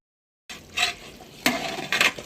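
Spoon stirring meat curry in a pot on a clay stove during Eid cooking, with scraping stirs and sizzling that come in short bursts after a moment of silence.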